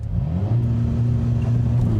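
A 2025 Lotus Emira 2.0T holds a steady, loud engine drone near the microphone at launch control, a constant low hum that builds slightly under full throttle for two seconds, with no voices.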